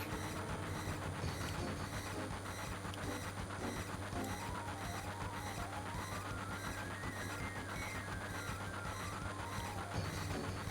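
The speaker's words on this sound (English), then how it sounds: "You're still in the train." Train ride in Final Fantasy VII, a steady rumbling rail loop with rhythmic clicking and a rising-falling tonal sweep, constant and fairly quiet with no voices.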